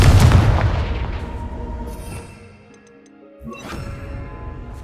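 A Confringo blasting curse exploding in Hogwarts Legacy, opening with a loud booming burst that decays over about two seconds, then a brief lull before a second, softer impact with a fizzing tail and light game sounds.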